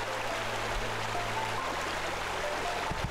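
A steady, even rush of water pouring into a swimming pool in the game Pool Cleaning Simulator, a continuous moderate stream with a low hum underneath and no talking.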